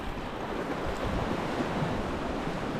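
Surf rolls onto a beach with buffeting wind over the microphone, a dense, steady wash of noise with no voices.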